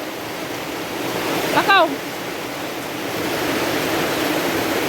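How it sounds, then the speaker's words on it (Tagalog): Heavy rain pours steadily in a broad hissing roar that fills the whole scene, while a brief voice briefly speaks over it partway through. "Grabe yung ulan"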